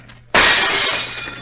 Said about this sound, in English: Smash the glass with that chair.